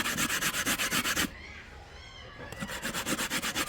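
Carrots grated on a sharp grater, a fast rhythmic rasping of steady strokes up close, pausing briefly midway before resuming at the same pace.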